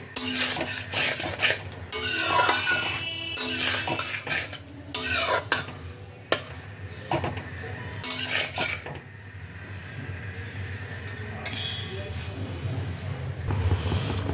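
Spice masala for a tangra fish curry with potato and brinjal being stirred and sautéed in a pan, with repeated loud scraping and clanking of a metal spatula against the pan over a low sizzle.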